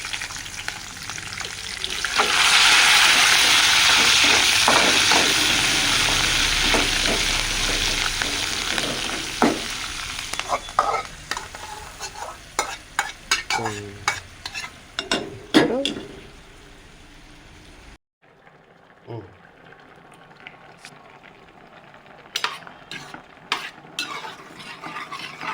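Curry leaves crackle and sizzle loudly in hot oil in a pan while being stirred, with spoon scrapes and clinks throughout, then the sizzle drops to a quieter background with occasional stirring knocks.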